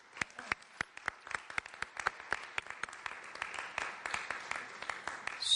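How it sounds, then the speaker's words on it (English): A small audience gives a round of applause, sparse individual claps from a handful of people, crisp and distinct, building slightly denser toward the end. "let's give them a round of applause"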